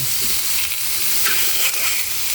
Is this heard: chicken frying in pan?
yes